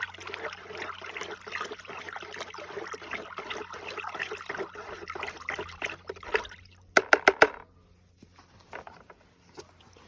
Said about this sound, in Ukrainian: Виливаємо йдемо обробляємо